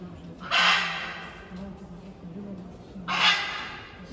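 Two loud, harsh squawks from a small parrot perched high in a palm house, a few seconds apart, over a faint background murmur.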